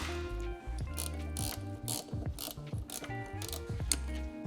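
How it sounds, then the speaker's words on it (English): A hand ratchet loosening 10mm bolts on the rear bumper of a 2022 or newer Toyota Tundra, giving quick repeated clicking bursts in an uneven rhythm, close and clear with no voices. "let's go ahead and start by removing the 10mm bolts on either side where these lights are"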